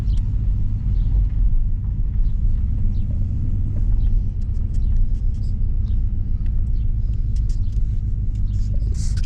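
A Buick Electra with a sticking throttle runs continuously, its engine a low, steady rumble heard from nearby with no voices over it.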